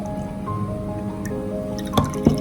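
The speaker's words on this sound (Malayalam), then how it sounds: "ഇത് ഒന്ന് അരിച്ച് നമ്മുടെ ഗ്ലാസ്സിലേക്ക് നമുക്ക് ഒഴിക്കാം." Liquid drips and trickles steadily into a glass, ending with a couple of louder splashy drops.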